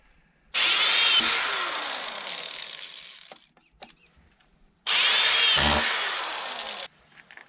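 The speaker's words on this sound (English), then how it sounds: "the next step is to screw the PVC pipe into the board" A power drill drives screws through PVC pipe into a wood board in two long, loud whirring bursts, each winding down over about three seconds, separated by a quiet gap with small clicks and knocks.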